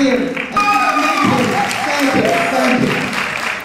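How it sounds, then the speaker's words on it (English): An audience gives a round of applause at a school program event, dense clapping throughout while voices talk over it. "we really want to give them a round of applause"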